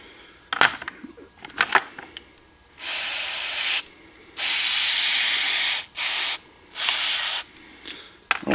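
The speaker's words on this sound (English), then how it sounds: "So we're going to go ahead and spray them down a little bit and just clean them." An aerosol can of oil is sprayed onto Hornady reloading dies in several hissing bursts of one to two seconds each, separated by short pauses, close by, with light clinks and handling noises before the spraying starts.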